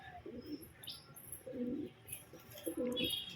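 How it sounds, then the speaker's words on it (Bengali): Soft pigeon coos repeat three times at a relaxed pace, with faint chirps and light background noise around them. "এদিকে সব পায়রা কিন্তু ছাড়া রয়েছে"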